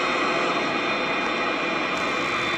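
Steady, loud jet engine roar from an airplane in a flight video game, a continuous broadband whine with a slight shift near the end and no talking.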